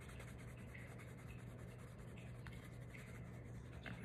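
Pencil sketching peonies on paper, soft faint scratchy strokes and light rubbing, close but quiet, over a low steady hum with no talking.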